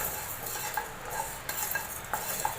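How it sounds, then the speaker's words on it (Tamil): Rice dry-roasts in a pan for a vegetable kuzhambu, stirred with a few soft scrapes and light clinks over a faint background hiss, close and quiet. "அரிசி நல்லா வறுக்கட்டும்."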